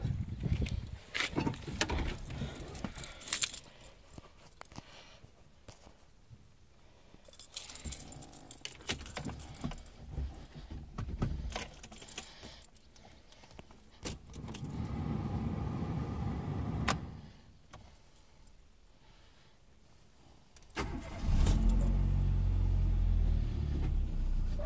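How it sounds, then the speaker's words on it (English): A Renault Twingo 1.2 whose drive belt has just been replaced: keys jangle, a door and small mechanical clunks follow, then the engine starts near the end into a low steady rumble. "idemo upalimo auto, da vidimo da li je sve ok"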